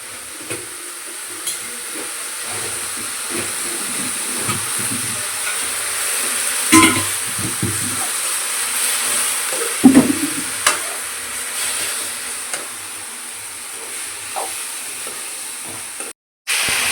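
Dry chillies and coriander seeds frying in a pan, a steady soft sizzle and hiss with occasional stirring scrapes and clinks of a utensil against the pan, fairly quiet and without voices.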